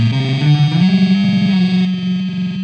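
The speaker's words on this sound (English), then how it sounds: "so you get this reverb or like slight delay effect" An electric guitar rings out through a Mountainking Inter-dimensional Doorway prototype delay and reverb pedal, sustained notes blurring together, loud and up close.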